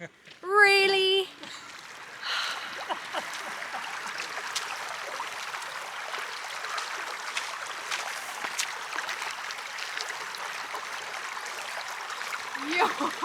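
River water streaming over a Camino de Santiago trail crossing, a steady broadband rush with a brief birdlike chirp at the start and people talking now and then.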